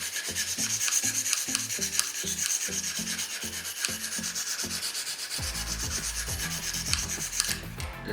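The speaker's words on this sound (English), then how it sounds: "I'm going to continue sharpening this knife" A knife blade scraped steadily across a sharpening stone, repeated rubbing strokes in an even rhythm close by, with a rougher grinding texture toward the end and no voices.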